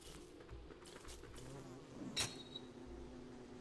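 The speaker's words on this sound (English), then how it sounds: "Should we catch some more bees as well?" Bees buzz faintly in the Don't Starve video game, a quiet, continuous insect drone with a brief sharper sound partway through.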